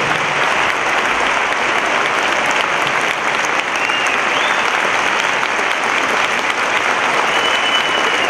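A hall audience gives steady, full applause without pause to welcome a theology author onto the stage, a thick wash of clapping that stays loud from start to finish.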